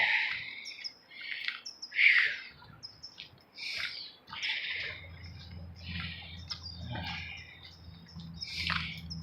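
Birds chirp and call in bursts on an early morning walk to work, bright repeated tweets near and far, with the low rumble of a passing vehicle underneath and no talk.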